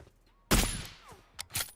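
Suppressed gunshots ring out in a multiplayer shooter game: one sharp muffled burst, then two quick shots a moment later, heard close and loud over a quiet background.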